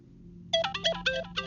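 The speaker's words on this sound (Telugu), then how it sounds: "ఫోన్ తీవయ్యా." A mobile phone ringtone starts abruptly after a quiet start and plays a bright, repeating electronic melody in short rhythmic bursts. It is fairly loud and close, over a low background hum.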